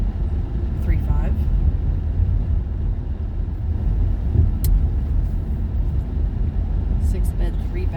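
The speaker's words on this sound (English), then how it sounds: "What the fucking traffic." Steady road traffic on a busy street near Washington Boulevard in Venice, Los Angeles, a continuous low rumble of passing cars with occasional higher hiss, with people talking over it throughout.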